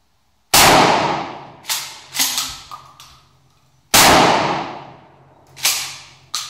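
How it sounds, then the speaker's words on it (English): A Mossberg Shockwave shotgun fires Remington managed recoil slugs outdoors. Two loud sharp blasts ring out several seconds apart, each followed by a few echoing cracks and reflections that fade away. "It also shoots left of the mark with those slugs, and those are Remington managed recoil sluggers"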